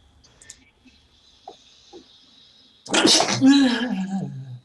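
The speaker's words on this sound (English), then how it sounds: "Yeah, that was a sneeze. That was a strange sneeze," One loud, close sneeze bursts out after a few seconds of near silence broken by soft scattered noises, followed by a drawn-out voiced tail.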